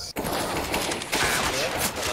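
Bursts of CS:GO gunfire laid down as suppressing fire during a match, a dense, continuous rattle of shots filling the clip with a brief gap near the start.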